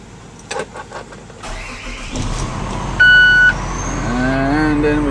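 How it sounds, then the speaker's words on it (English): A 2013 Hino 258 truck engine cranks and starts up, settling into a steady idle, with a short electronic warning beep partway through and faint whistling tones in the background. "now we turn on the truck"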